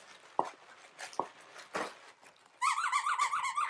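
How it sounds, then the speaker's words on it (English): Cookie-shaped plush dog toys give several short, separate squeaks, then a rapid run of squeezes near the end, all close to the microphone with no talk. "they have squeakers on them"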